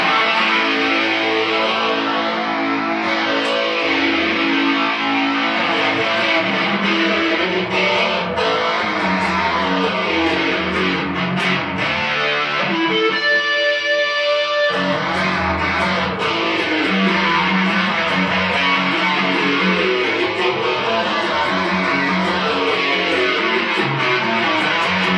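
Electric instrument played through an amplifier with the boost button engaged, giving a loud, edgy, distorted tone with sustained notes and sweeping effects, plus a steady hum underneath, continuous throughout.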